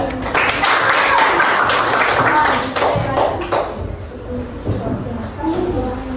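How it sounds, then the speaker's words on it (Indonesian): Students in a classroom give a round of applause during a Pancasila lesson, a loud burst of quick clapping and tapping that fades after about three seconds into shuffling and faint voices. "Kasih tepuk tangan ya"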